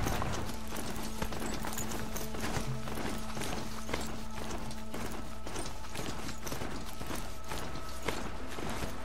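Hooves clip-clop in a fast, even gallop as a horse runs in the video game Horizon Zero Dawn, rhythmic and continuous against faint background game sound.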